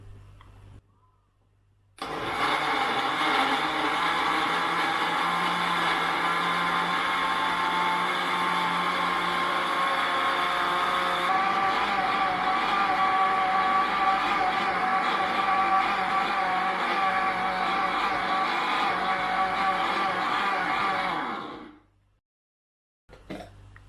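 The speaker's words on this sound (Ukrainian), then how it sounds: "Шум блендера ви відчули, він, ну, скажімо так, середньої сили" A Tefal BL435831 800-watt blender motor whirs steadily at close range for about twenty seconds, starting abruptly and winding down at the end.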